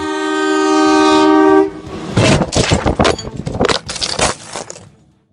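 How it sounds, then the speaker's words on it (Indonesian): A train horn blares for over a second, then the train rushes past with loud rattling and clanking wheels that fade out. "Kereta pun juga sudah memberikan klakson"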